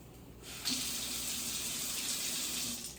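Water runs steadily from a newly installed sink faucet, starting after a brief quiet moment and then holding a strong, even hiss close by with no voices.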